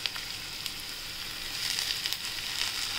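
Tomatoes sauté in a pan with garlicky cluster beans, giving a soft, continuous sizzling hiss that grows slightly louder over a few seconds.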